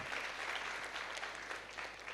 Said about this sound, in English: Please give applause for Sathya